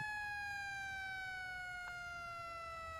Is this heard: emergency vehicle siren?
yes